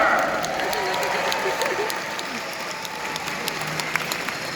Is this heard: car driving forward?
no